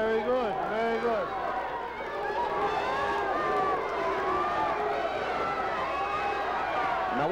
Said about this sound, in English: Now, what is the crowd screaming about?